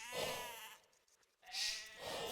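Sheep bleat in the strategy game Age of Empires II, two clear, close wavering calls separated by a short pause, with no talk over them.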